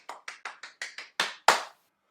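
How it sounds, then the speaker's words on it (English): A few people clap after a gentle exercise class, eight distinct claps in a steady rhythm that get louder toward the end, close and crisp, then silence. "Give yourselves a round of applause, ladies and gents."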